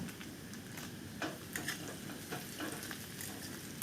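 Mourala fish in chili powder is stirred in a pan, giving a low steady sizzle with scattered scraping clicks from the utensil, close and fairly quiet, with no voices.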